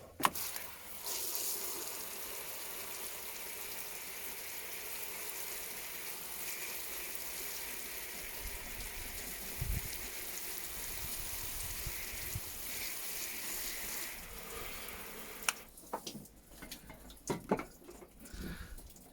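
Water poured steadily onto a European hornbeam bonsai, a continuous soft splashing stream for about fifteen seconds before it tapers into scattered drips and small handling noises.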